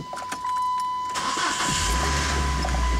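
A Saturn S-Series car engine cranking briefly, then catching and settling into a steady, close idle with a constant hum running alongside.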